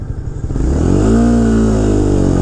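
A 2016 Honda CBR 300R motorcycle pulls away from a start in second gear, its engine note rising steadily and loudly as it accelerates, close and alone.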